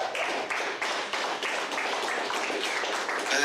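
A crowd at a birthday roast in a sports bar claps briskly and continuously for a few seconds, a dense patter of hands with no voices over it.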